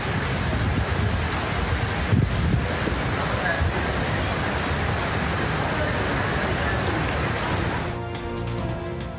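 Heavy rain pours down steadily in Pakistan as a dense, loud, unbroken hiss, and it eases slightly in the final second.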